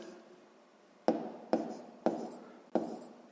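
Pen strokes on paper while writing numbers by hand during a sixth-grade maths exercise, four quick sharp scratches close up, quiet and alone.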